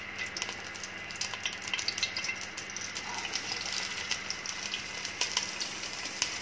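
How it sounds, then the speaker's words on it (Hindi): Chopped onions sizzling in hot cooking oil for a chicken stew, a dense, steady crackle with scattered sharper pops, close and alone without any talk. "ऑयल थोड़ा सा गर्म हो जाएगा तो इसके अंदर मैं डालूंगी प्याज"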